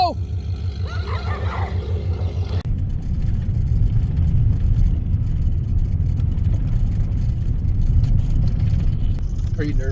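Engine of a large red vehicle called Big Red steadily droning and rumbling during a driving lesson, close and continuous with a brief rise in power; people talk over it at the start.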